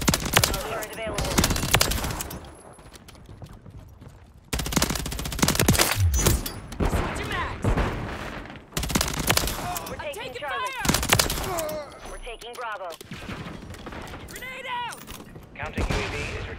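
Gunfire rattles in Call of Duty Modern Warfare 3 multiplayer, with repeated bursts of automatic shots breaking out between quieter pauses over about sixteen seconds, mixed with radio-style voice callouts.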